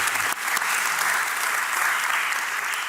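Warm audience applause at a dialogue event, a dense, even wash of clapping that continues steadily at full strength with no speech over it.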